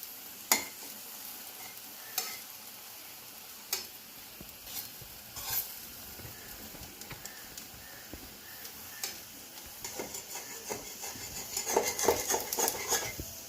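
Thin lentil fritters fry in a pan alongside an ash gourd dish, with a low bubbling sizzle punctuated by sharp metallic clicks and scrapes of a spatula, busier stirring near the end; no speech.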